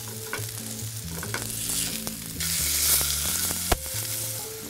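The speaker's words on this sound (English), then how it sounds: "I'm going to flip the halibut over." Potato-crusted halibut frying in a pan after being flipped, a steady close sizzle that swells midway, with a sharp utensil knock near the end and faint tonal hum beneath.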